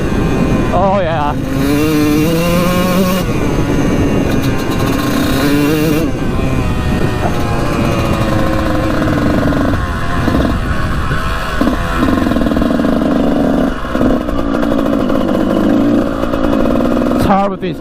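A $500 Kawasaki dirt bike engine runs loud and close, revving up and down repeatedly in rising and falling bursts, with a voice talking over it.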